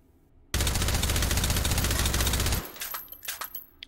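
A suppressed M4A1 carbine fires one long full-auto burst in the H3VR video game, a dense rapid rattle of muffled shots lasting about two seconds, then stopping abruptly and leaving faint clinks and thuds behind.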